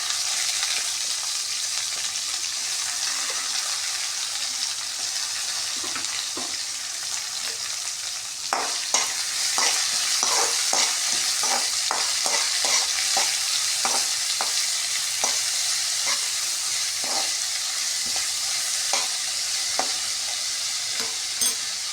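Small onions, two green chillies and curry leaves sauté in hot oil, a bright steady sizzle that turns busier partway through as a spoon stirs with quick repeated scraping taps, close and unaccompanied by speech.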